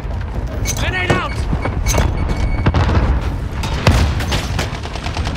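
Video game grenade blast amid a busy firefight, with a deep boom near the four-second mark standing out over steady gunfire and booms throughout, while players talk over the action.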